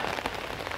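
Rain falls on a rainy morning in Melbourne as a dense, steady hiss of drops on surfaces, close and even, with no voices.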